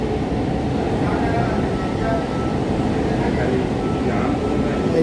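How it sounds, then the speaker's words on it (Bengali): A Kolkata metro rake runs near Kavi Sukanta station, giving a steady, loud rumble of wheels and motors that fills the clip throughout. A voice speaks over it. "এদিকেও মোটামুটি ফাঁকা আছে মেট্রো রেকটা।"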